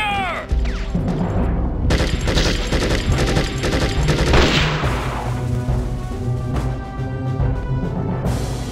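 Dense, loud bursts of automatic gunfire and heavy booms from a desert-warfare shooter game, nearly continuous rapid volleys layered over rumbling explosions and a steady battle soundscape.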